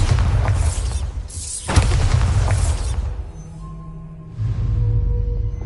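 Bombarda spell explosions in a Harry Potter–style video game: loud booming blasts with a sharp burst near the middle, followed by rumbling and a lower sustained roar.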